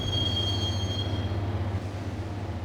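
A subway train runs in the video game Max Payne, rumbling loudly and continuously with a low drone, while a high metallic wheel squeal rings steadily through the first half before fading out.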